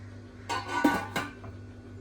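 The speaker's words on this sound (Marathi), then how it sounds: "पाच मिनटासाठी आपण झाकण ठेवूया" A lid set onto a cooking pot of vegetable curry with dried coconut, a quick pair of close metallic clinks and a short rattle as it settles, then quiet.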